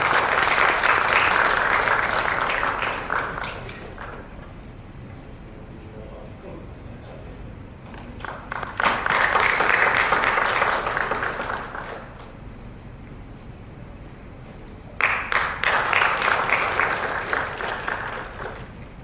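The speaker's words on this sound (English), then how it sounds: "Please give a round of applause for the guest" Applause at an international conference on power and intelligent control systems, honoring a guest professor; three loud bursts of clapping swell and fade, separated by quieter murmuring stretches.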